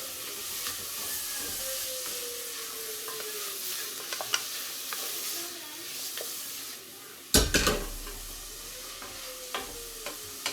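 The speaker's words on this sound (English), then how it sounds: "Give that a quick stir." Onions fry in a pan with a constant soft sizzle while a utensil stirs and scrapes through them, with one louder clatter partway through and no one talking.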